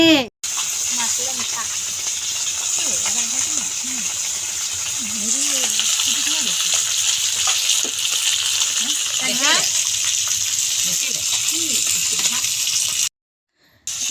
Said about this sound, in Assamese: এতিয়া মায়ে মাছ ভাজি আছে